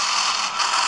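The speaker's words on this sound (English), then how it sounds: "I'm reloading" A gun being reloaded in Call of Duty Roads to Victory, a brief burst of clicking, ratcheting metal mechanism sounds, close and steady, with no voices.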